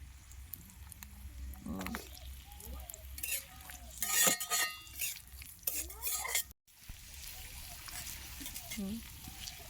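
Carrots and beans being tossed into a hot frying pan and stirred with a spatula for pasta, with soft sizzling, scraping and clinks of utensils close by, while voices talk nearby.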